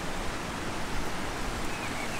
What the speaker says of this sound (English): A nice river there.